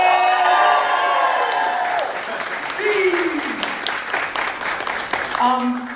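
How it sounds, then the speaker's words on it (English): A live audience applauds and cheers for Michael B. Jordan as he comes out at a premiere, loud sustained clapping with whoops, while a voice speaks over the crowd throughout. "clap for him when he comes out here"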